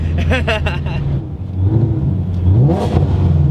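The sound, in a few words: modded 2017 Shelby GT350 engine revving and accelerating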